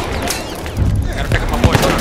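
A grenade goes off during Battlefield 1 gameplay on PC, heard as a muffled low boom amid ongoing battle noise and scattered gunfire, with a few sharp impacts near the end while players talk over it.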